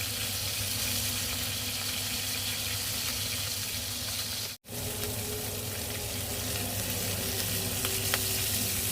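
Dried milkfish, daing na bangus, fries in a pan of oil with a dense, continuous close-up sizzle that runs unbroken apart from one momentary dropout midway.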